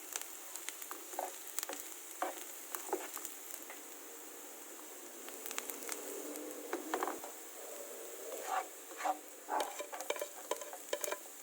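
Ground beef and onions fry in a pan with a soft sizzle, broken by intermittent scraping and stirring clatter from a utensil, fairly faint and close.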